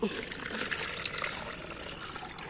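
Neem oil solution poured through a mesh filter, a steady close splashing and gushing of liquid running throughout without pause.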